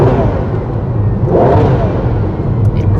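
A Ferrari 12Cilindri's V12 engine drones loud and steady inside the cabin while driving on smooth tarmac, with a brief surge in revs partway through.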